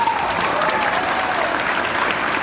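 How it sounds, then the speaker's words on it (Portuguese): Church congregation applauding during a sermon, a steady wash of clapping from many hands that holds evenly throughout without pause. "Você quer aplaudir?"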